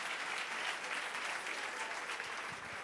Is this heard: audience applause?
yes